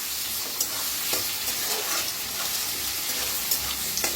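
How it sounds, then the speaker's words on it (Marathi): Chopped onion frying in a pan for a spiced cabbage dish, a close steady sizzle with occasional scraping stirs and small crackles, no talking. "तर कांदा चांगलासा भाजून घेऊया।"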